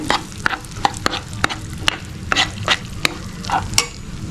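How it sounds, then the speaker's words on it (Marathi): Dry fruit powder and raisins being fried in a pan for a sweet potato kheer, with a steady soft sizzle broken by sharp, regular spatula scrapes and taps against the pan, close and clear with no talking. "ह्याच्यामध्ये मी हे ड्रायफ्रूटची जी पावडर करून घेतलेली ती आणि बेदाणे वगैरे घेतलेले आहेत ते मी थोडंसं परतून घेते"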